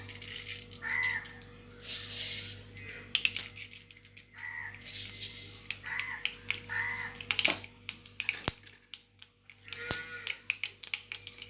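Irregular sharp pops and crackles of mustard seeds bursting in boiling oil, scattered over a faint background hiss.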